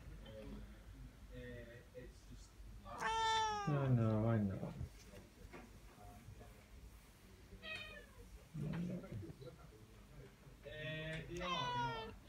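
A tortoiseshell cat meows several times in a drawn-out, wavering way, close by, while a person talks to it softly in between and over the calls.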